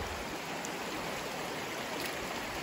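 Flowing creek water, a steady close hiss and wash of broadband noise with no pauses, no voices.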